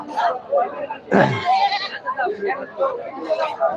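Goats bleat at a busy village livestock market: one loud nearby bleat stands out amid a crowd's chatter and other animal calls.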